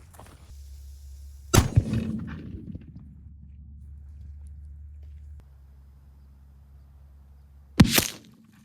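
A black powder cannon fires a round ball at a distant target outdoors, one sharp loud boom with a trailing rumble, then quiet background hum before a second blast near the end.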